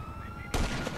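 A single sharp gunshot in the video game GTA Online bursts out halfway through, loud and close, following a low hum.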